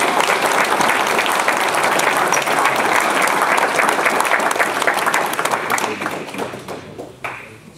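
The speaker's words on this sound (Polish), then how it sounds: "poproszę o brawa" A kayak club crowd applauds at its season summary ceremony with loud, sustained clapping from many people that tapers off toward the end, leaving a few scattered claps.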